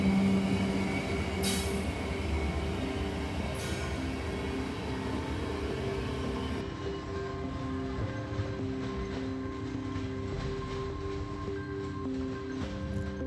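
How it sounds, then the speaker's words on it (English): A mixed freight train led by two Union Pacific SD70M locomotives rolls past, a steady loud rumble of rail cars with wheel squeal and clanking, and a couple of sharp bursts near the start. "mixed freight train led by two SD70Ms, number 3961 and 3863"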